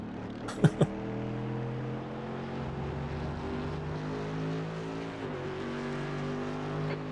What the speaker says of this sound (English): there's a car exiting the pits